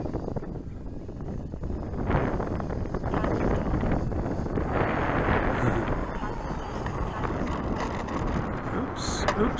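High wind buffets the microphone while an E-Flite Valiant 1.3m RC plane comes in to land, a loud, continuous roaring rush with a faint motor hum, and someone talks over it.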